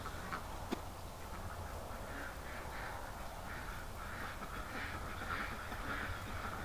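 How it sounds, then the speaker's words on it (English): Ducks at a winter pond, one of them with an injured foot, quack intermittently over a steady, noisy outdoor background, moderately distant and fairly faint. "Oh, we got another duck with a hurt foot."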